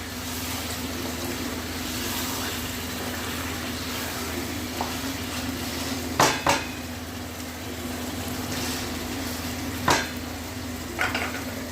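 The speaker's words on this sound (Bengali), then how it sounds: "এবার আরো 2 মিনিট ভালো করে কষিয়ে নেবো" Mutton being stir-fried in a pan, a steady close sizzle with soft stirring scrapes and a few sharp clinks of utensil on metal.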